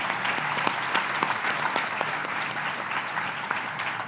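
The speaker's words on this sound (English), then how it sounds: "Give them one more round of applause." Steady applause comes from a seated gala audience honoring teachers, a thick wash of many hands clapping continuously at a fairly loud, even level, with a few sharper claps standing out near the front.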